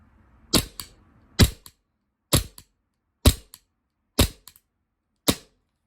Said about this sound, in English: this is the VFC with the CO2 magazine. Has also a very nice blowback.